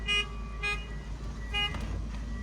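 Short horn honks sound several times at a distance, three or four brief toots spaced irregularly over low traffic rumble.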